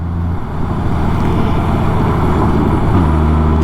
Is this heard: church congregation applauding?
no